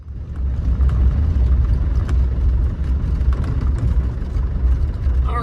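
A 1995 Land Rover Defender 90 with the 300Tdi diesel running, a close, steady low rumbling engine note with a slight rough throb and no voices.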